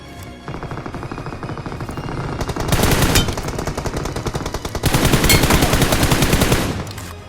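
An M416 Glacier assault rifle fires automatically in the battle royale game BGMI: a steady ticking of shots, then two loud sustained bursts of rapid fire with a short gap between them, close and with no talking.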